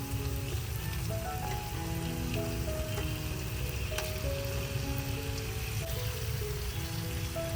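Eggs fry in oil with masala gravy, giving a steady, close crackling sizzle with dense spattering pops that run unbroken throughout, with no voices.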